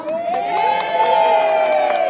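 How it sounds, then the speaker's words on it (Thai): Crowd at a Thai engagement ceremony cheers and shouts together to call the bride, a loud sustained mass of voices with whoops rising over about two seconds. "ให้ตะโกนเรียกไอ ให้ไอได้ยินเลยค่ะ"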